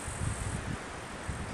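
Wind on a trail: steady, dull rumbling gusts buffeting the microphone with a constant broadband hiss, low-frequency puffs pulsing irregularly throughout, no speech.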